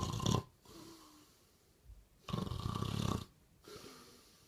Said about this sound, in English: Mr. Smith was snoring very loudly